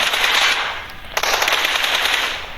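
Rapid automatic gunfire rattles in an online shooter game, a dense, loud burst of shots that continues with a brief pause partway through, with no talking over it.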